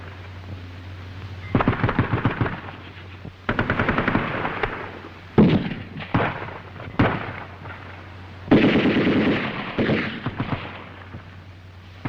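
Machine gun and rifle fire from a WW2 film about a German squad attacking a position, rattling in long rapid bursts with sharp single reports between them, loud and close over a low steady hum.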